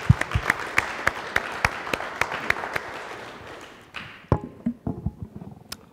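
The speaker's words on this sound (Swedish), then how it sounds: "Så en applåd till honom först." A small audience gives a brief round of applause: evenly spaced, sharp claps at first that thin out into a few scattered, fading claps at the end.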